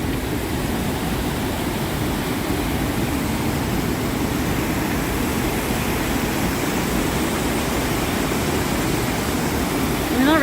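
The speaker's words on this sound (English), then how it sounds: "here we are at the Rhine Falls" Rhine Falls waterfall roars in a steady, dense wash of white noise that stays even and loud throughout, with no break or change.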